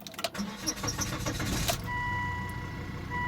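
A 2005 Volvo XC70 2.4 D5 diesel cranks with a rattling starter and catches, settling into a steady idle close by, with a faint whine, clicks and a brief voice nearby.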